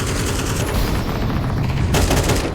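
Rapid bursts of SMG fire in Counter-Strike 2 during a collegiate match push, dense and continuous with sharper volleys near the end.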